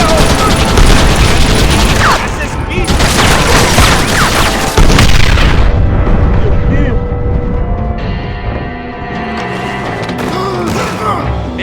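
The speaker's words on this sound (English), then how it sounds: "Hurry, John! Use the cannon!" Loud, booming cannon blasts and crashing impacts from the Red Dead Redemption video game, dense and sustained over several seconds before easing into a lower rumble.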